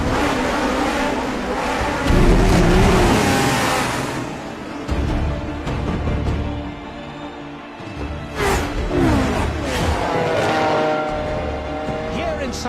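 Formula 1 race cars, James Hunt's McLaren and Niki Lauda's Ferrari, roar loudly as they accelerate off the line, engines rising and falling in pitch, with a pass swelling around the middle and later moments.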